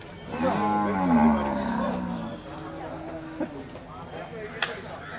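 Cattle and bulls, including native bullocks, at a wholesale cattle market in Kerala: one loud, close, drawn-out moo lasts about two seconds, then the pen settles into background bustle with people talking nearby.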